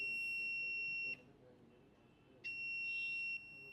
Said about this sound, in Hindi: बजर की आवाज़ यहाँ पे आ रही है